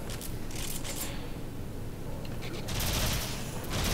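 Dense gunfire in the space ninja game Warframe, sustained rapid bursts of shots throughout with louder volleys near the end, with a voice talking over them.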